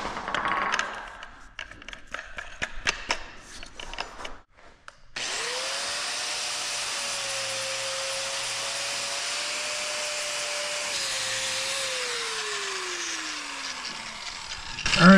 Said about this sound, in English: I'm gonna grab a grinder and just take the burrs off the top and the bottom of these holes